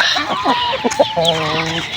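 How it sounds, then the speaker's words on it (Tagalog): Nine-month-old Rhode Island Red chickens, roosters and hens, cluck close by in a quick series of short calls, with one drawn-out note near the end. "ito ay ang 9 months old ko na mga Rhode Island, tandang at saka inahin"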